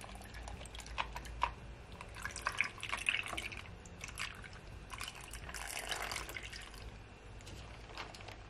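Iced coffee is poured into a glass over ice, a faint trickle with small clinks and drips, close and quiet.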